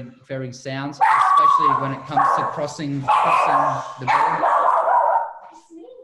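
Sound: dog barking

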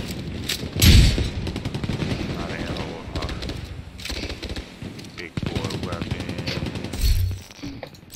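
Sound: gunfire shooting at the player in a video game

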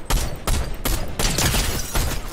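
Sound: gunshot in the video game Fortnite

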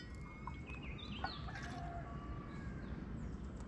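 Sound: bird calling outdoors on a hike

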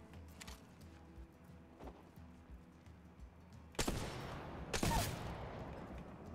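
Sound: gunshots in the video game Apex Legends

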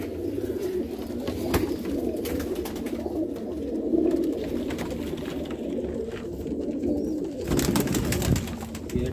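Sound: Teddy pigeons cooing

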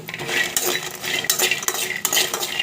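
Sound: peanuts being stir-fried in a pan until they change colour

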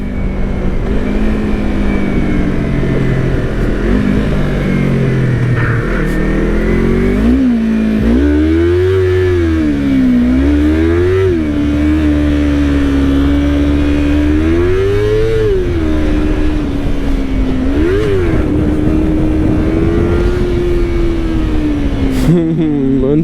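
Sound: Yamaha MT-09 motorcycle engine revving

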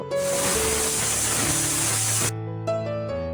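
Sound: pressure cooker steam hissing while boiling jackfruit

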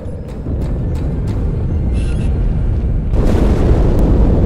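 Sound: explosion aboard the Athens ship in Halo 2 video game

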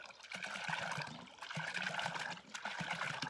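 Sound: water flowing from a spring under pressure

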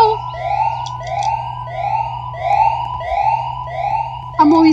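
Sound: police siren in a video game

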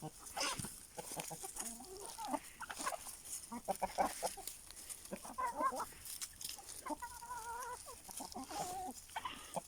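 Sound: chickens and rooster

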